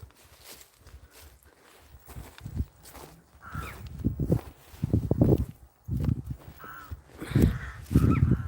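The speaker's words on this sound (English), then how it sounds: "You can hear the crows as well, guys." Crows caw several times at irregular intervals around the historic Shanrahan churchyard and cemetery, moderately near, mixed with footsteps crunching along the ground and faint outdoor rustle.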